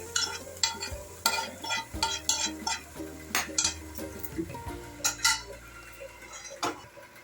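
Ponganalu batter frying in a ponganalu pan, with repeated clinks and scrapes of a utensil against the metal over a soft sizzle, irregular taps spread across the whole stretch, close and fairly quiet, no talking.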